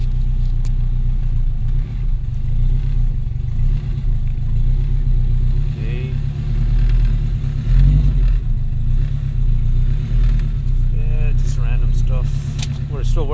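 Cold turbocharged, straight-piped 2002 Acura RSX Type-S engine warming up, a deep uneven idle rumble that swells briefly, with someone talking over it.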